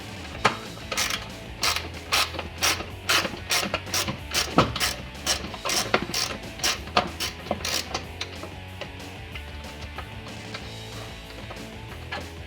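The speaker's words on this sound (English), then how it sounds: "you can get away with a deep socket or a small extension" A socket wrench ratchets on bolts of a Jeep Wrangler JL during a mud flap install, giving a steady run of close, crisp clicking strokes for several seconds, then a quieter stretch of faint clicks.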